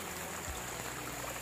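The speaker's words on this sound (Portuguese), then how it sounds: "Muita chuva, galera. Mais de meia hora de água." Heavy rain pours steadily over a building site in Serrinha da Prata, a dense, constant hiss of falling water that stays even throughout, with no voices.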